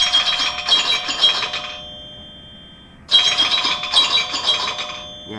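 An Apple iPhone ringtone from early iOS plays in two rhythmic bursts of bright, chiming tones with a beat-like pulse, separated by a short gap, clear and close with no talking.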